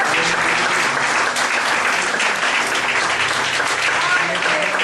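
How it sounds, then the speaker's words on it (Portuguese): A congregation applauds during a church service, loud and dense clapping that fills the room continuously and evenly for about five seconds. "Dê um aplauso a Ele nesta manhã"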